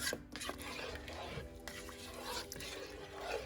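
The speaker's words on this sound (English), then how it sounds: "I'm just going to give it a good mix so that we've got a good consistency throughout" Vegetable biryani being stirred in a pot to mix the spices through, a steady scraping and rubbing of spoon against the pot with faint clinks, continuous and close, with no talk.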